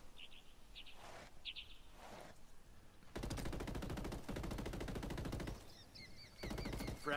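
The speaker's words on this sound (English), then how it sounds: "Who's shooting though?" Sustained automatic gunfire rattles in rapid bursts through the middle of a Ghost Recon Wildlands firefight, preceded by quieter scattered shots and light bird chirps, with birdsong returning as the shooting breaks off.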